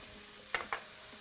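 Chorizo frying in a pan, a faint steady sizzle with two quick scraping stirs close by, no voices.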